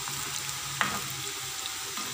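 Watermelon rind chips fry in hot oil in a pan, a steady close sizzle throughout with one brief clink of a stirring utensil partway through.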